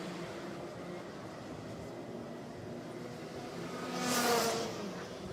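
Racing karts circle the Sepang circuit during a Rotax Max Challenge senior final, a steady distant engine drone swelling briefly louder as one passes near, with no voices.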